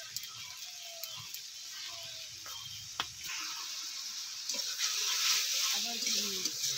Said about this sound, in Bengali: মশলাটা দিয়ে আমি একটু নাড়াচাড়া করে নিচ্ছি।